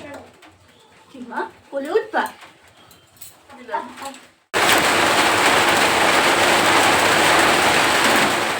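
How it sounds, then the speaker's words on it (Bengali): Speech is followed by a sudden switch to loud, steady, dense rain pouring hard, continuing without a break to the end. "দেখো বাইরে আবার ঝুমঝুমে বৃষ্টি শুরু হয়ে গেল।"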